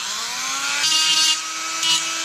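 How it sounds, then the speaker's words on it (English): A Dremel rotary tool grinds out rivets holding LED boards in a 2018-2023 Mustang, a steady high whine close by, its pitch dipping and surging as the bit bites into the metal. "Let's go ahead and set up the Dremel so we can go ahead and get these LEDs out."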